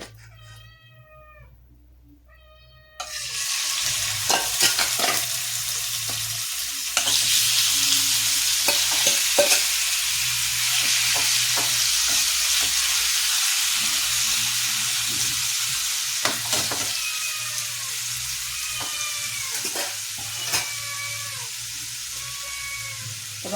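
Food frying in a pan, a loud continuous sizzle starting after a quiet moment with stirring clatters, while a cat meows repeatedly nearby over the cooking.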